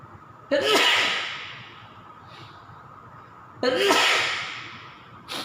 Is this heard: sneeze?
yes